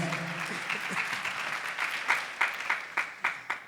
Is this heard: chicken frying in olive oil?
no